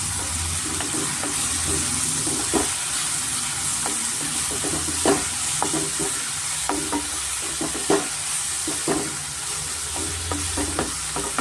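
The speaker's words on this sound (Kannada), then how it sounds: "ಸ್ವಲ್ಪ ರಾಸ್ಮೇಲೆ ಹೋಗೋವರೆಗೂ ಚೆನ್ನಾಗಿ ನಾವು ಫ್ರೈ ಮಾಡ್ಕೊಬೇಕಾಗುತ್ತೆ" Vegetable avalakki (flattened rice) with chilli-ginger paste fries in a pan with a steady close sizzle, while a spoon scrapes and stirs in irregular clicks throughout, without talk.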